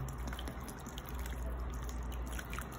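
Water poured onto a coconut substrate briquette, giving a soft, continuous close trickle with scattered faint drips as the liquid soaks in.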